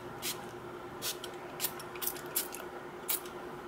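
A spray bottle mists with a series of short, soft hissing bursts, about seven quick puffs at irregular intervals, close and fairly faint against a quiet room.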